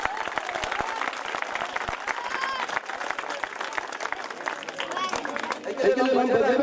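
Audience applause at a cricket tournament award ceremony, a sustained dense patter of many hands clapping with crowd murmur underneath, swelling louder near the end.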